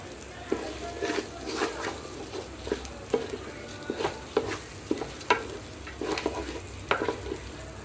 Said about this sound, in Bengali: পোলার চালগুলোকে এক দুই মিনিটের মতো ভেজে নিব